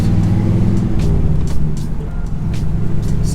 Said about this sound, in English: What I'm going to do is put it in reverse. We're going to take it for a ride.